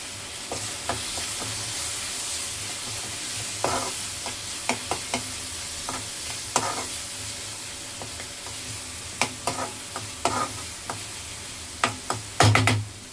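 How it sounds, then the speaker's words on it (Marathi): Masala for pav bhaji sizzles steadily in a pan over a low gas flame, a continuous close frying hiss broken by repeated clicking scrapes and taps of a stirring spoon. "आता हा मसाला 5 मिनिटं स्लो गॅसवर ठेवते"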